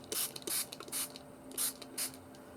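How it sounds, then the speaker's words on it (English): A spray bottle mists water generously over an inked junk-journal page, six quick hissing bursts in a steady rhythm, close and fairly quiet in a still room. "so it's really generous spray of water"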